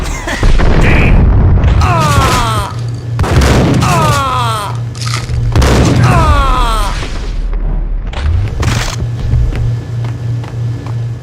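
Explosion in the PS2 video game Max Payne (2001): loud booming blasts and rumbling bursts repeating over several seconds, layered with game sound effects and a sweeping tone, while voices speak in between.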